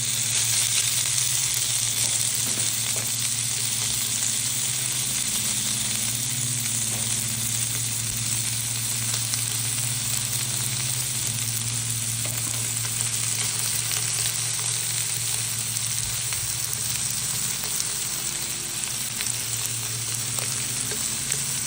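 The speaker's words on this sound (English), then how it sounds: "they're gonna sear for about 1 to 2 minutes on each side" Burgers sear in a hot pan with a loud, continuous, even sizzle that holds steady for the whole stretch, with no voices over it.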